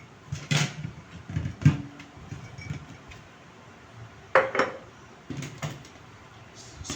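Dishes are being washed at a sink, with a rice spoon being scrubbed, producing intermittent clinks, clatters and knocks of utensils and dishware close by, separated by quiet pauses.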